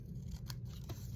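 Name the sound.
cutting paper with scissors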